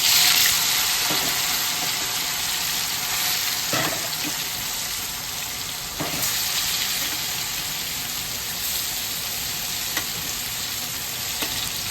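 Paneer frying in a hot pan with a steady, close sizzle throughout, broken by occasional clinks and stirring sounds, with no voices.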